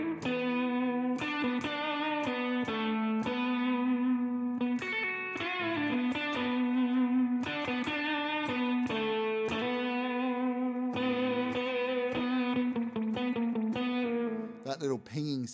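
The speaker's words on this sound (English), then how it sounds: "That little pinging sound, that's this reverb here, so there's too much reverb on there." An electric guitar plays a run of plucked notes from Joy Division's "Shadowplay" drenched in excessive reverb, each note ringing with a metallic, pinging tail.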